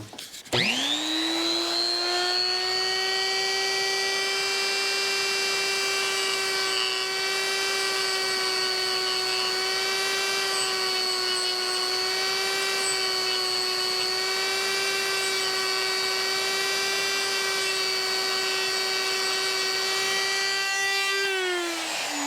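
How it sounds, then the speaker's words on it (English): A power tool grinding down the tip of a PVC part, a loud sustained high-pitched whine that spins up at the start, holds steady for about twenty seconds, then winds down at the end, close and alone. "we're going to grind that little tip down"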